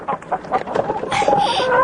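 An animated farmyard hen clucks in the Korean countryside after laying an egg: a series of short, fairly close clucks that build into a busier, more sustained cackle toward the end.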